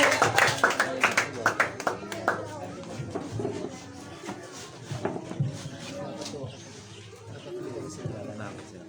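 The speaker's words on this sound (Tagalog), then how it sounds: "Malakas sa palakpak sa ating Panginoon" A congregation claps during a Sunday church service, sharp overlapping claps strongest at the start and thinning over time, mixed with a speaking voice throughout.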